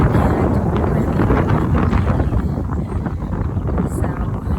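Strong wind buffets the microphone outdoors on a bright, sunny day, a continuous close rumbling roar with gusty fluctuations throughout.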